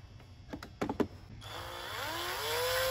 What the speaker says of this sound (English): Same thing here, you're gonna drill it out.